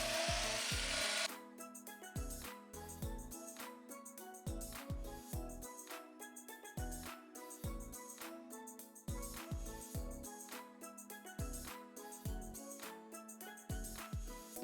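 Wooden slingshot pieces being cut out with a power saw, a steady rhythmic cutting that pulses on and off repeatedly in short strokes, close and continuous with no talking.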